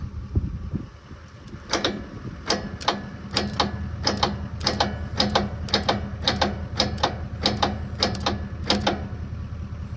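An engine starter on a 1155 project vehicle cranks in a rapid, regular series of sharp mechanical clacks over a low rumble, close and steady for several seconds after a brief pause.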